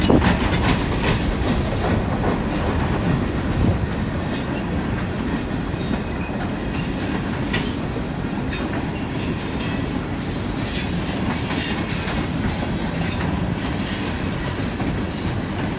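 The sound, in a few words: long freight train passing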